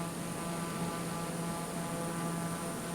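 Steady engine drone from an aircraft in Microsoft Flight Simulator, a continuous low buzzing hum with an even mechanical tone held throughout, moderately loud and without any talk.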